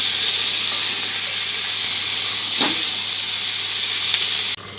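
Carrot, beans and papaya frying in a pan for Bengali shukto give a steady, close hiss and sizzle that runs unbroken for several seconds and then cuts off abruptly near the end.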